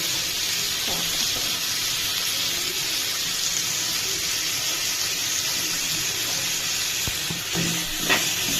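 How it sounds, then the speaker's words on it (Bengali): Turmeric sizzles steadily in a pan as it is stirred, giving a continuous close frying hiss with occasional light scraping clicks from the stirring. "হলুদ রেডি হচ্ছে, হলুদ একটু লেড়ে চেড়ে কাঁচামরিচ দিয়ে দিব।"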